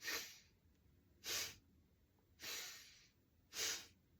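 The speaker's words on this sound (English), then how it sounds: "The inhale and the exhale are going to be equal, and they're going to be intense, and it's through your nose." Four intense, evenly paced breaths in and out through the nose during a breathing exercise, each a loud hissing rush about half a second long with short quiet gaps between, close and with no talking.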